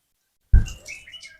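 A single bulbul gives a short, bright chirp after silence, close and fairly loud, followed by a brief trailing twitter with no other sounds.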